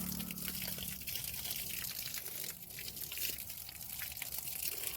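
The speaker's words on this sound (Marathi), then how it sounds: "असं मी पाणी घालून घेते" Water is poured along rows of grapevines in a vineyard, a steady splashing gush that runs unbroken and fairly close for the whole stretch, with no talk over it.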